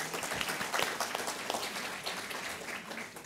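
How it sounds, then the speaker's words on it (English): Audience applause at a public meeting on Chicago Public Schools, a short burst of moderate clapping from a room of people, fairly distant and steady. "Round of applause."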